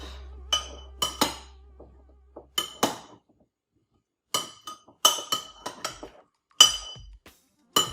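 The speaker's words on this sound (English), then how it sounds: "Let's stir this up." Spoon stirring green beans and tomato sauté in a pan, producing a series of sharp metallic clinks and taps in irregular clusters, close and clear against near silence.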